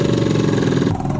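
A tuned French scooter engine idles high and close by, a steady, dense buzzing putter that dips slightly near the end.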